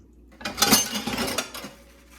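Dishes being hand washed at a sink, with close clinks and clatters of plates and cutlery over running water. The sound builds into a dense burst and then trails off, and nobody speaks.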